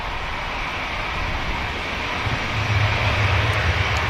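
A heavy airliner taking off down the runway at Manchester Airport, a distant steady engine roar with a low rumble that swells toward the end, heard without talk.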